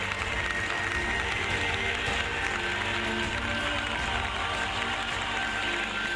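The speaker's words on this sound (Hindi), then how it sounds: "जोरदार तालियां बजाएं उस बड़े काम के लिए" Congregation applause during a Hindi-language sermon at a church convention, a dense, steady wash of clapping and crowd noise holding at a constant level throughout.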